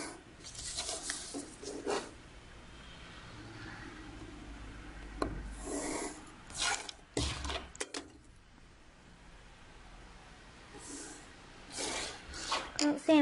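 A line is drawn on origami paper while folding an octagonal tato, giving soft, close scratchy rubbing strokes in short bursts separated by quiet stretches, with paper handling between them.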